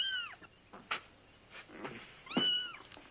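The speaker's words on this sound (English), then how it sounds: "I shouldn't have let Mr. Witt haul that kitty away." A kitty meows several times in short, rising and falling calls spread across a few seconds, fairly close but soft, with small handling noises between them and no speech.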